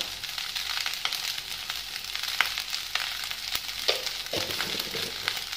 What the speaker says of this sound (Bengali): ভালো করে আমি মিশিয়ে নিচ্ছি ভাতটাকে।